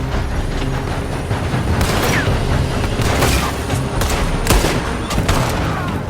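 Gunfire in Red Dead Redemption 2, a loud fusillade of sharp cracks and booming shots in irregular bursts, some close and some more distant, trading back and forth over several seconds.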